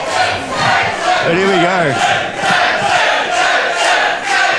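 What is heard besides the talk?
wrestling crowd cheering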